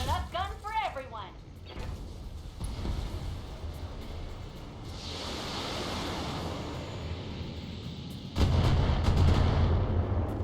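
Weapons fire at a target in the mech combat game BattleTech: a dense, heavy barrage of rumbling shots and booms swelling over several seconds, then a louder burst near the end, with a voice speaking briefly at the start.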